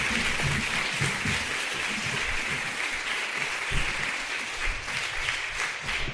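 A church congregation applauds the fathers during a Spanish-language service, a dense, steady wash of many hands clapping that holds loud and even for several seconds.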